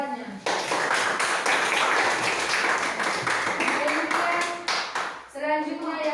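Children in a classroom clap together for a classmate, a dense burst of hand claps lasting several seconds before a teacher's voice takes over at the end.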